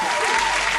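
A short loud burst of continuous clapping, steady and close, with no voices.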